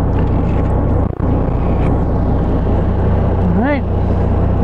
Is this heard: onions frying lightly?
no